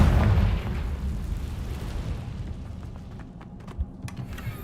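A Confringo fire spell explodes in the wizarding game Hogwarts Legacy, opening with a loud, deep boom that rumbles and fades into a crackling tail, with a small pop near the end.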